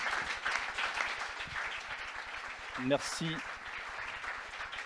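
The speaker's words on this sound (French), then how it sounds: "je pense qu'on peut les applaudir" An audience at a French conference on cultural third places applauds its panel speakers, a steady wash of clapping with a voice briefly speaking over it.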